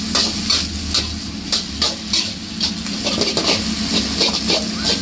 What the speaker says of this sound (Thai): ผัดทุกอย่างให้เข้ากันนัวๆแบบนี้เลย